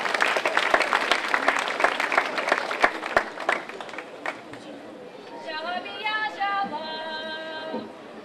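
Audience applause at a Czech folk festival performance, dense clapping with crowd chatter that fades after a few seconds, giving way to lighter crowd murmur and high musical or whistle-like tones toward the end.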